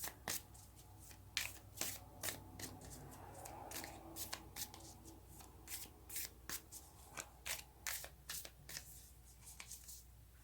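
Tarot cards riffled and drawn from a deck in a quiet room, a steady run of soft crisp flicks and slides, close and gentle, with no voice over them.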